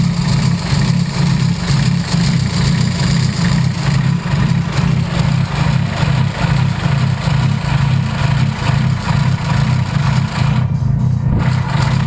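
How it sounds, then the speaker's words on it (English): Turbocharged Honda Civic with a B-series engine idling steadily, its radiator fan running alongside, a continuous close drone with a strong low rumble and no voices. "the fan just kicked on, so that means that it's up in temp"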